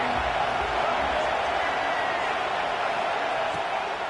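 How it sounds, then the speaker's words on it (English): A packed arena crowd roars in a loud, continuous wall of cheering and noise, dense and unbroken throughout with no individual voices standing out. "how loud is it in this building? This is crazy. These fans are going absolutely nuts."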